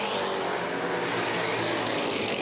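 Race cars roaring around an oval track at the Winchester 400, running single file in a pack, a loud, continuous, dense engine drone with no break across the whole stretch.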